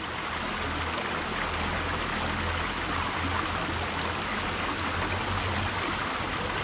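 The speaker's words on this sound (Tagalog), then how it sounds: "yung agos ng ilog at puni ng mga insekto, mga ibon" River water flowing through a forest makes a steady, even rush of moderate loudness, with a thin high-pitched insect tone held above it and no talking.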